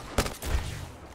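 Gunfire in Apex Legends: a short sharp burst of shots, one crisp crack followed by a rumbling rattle, lasting about a second.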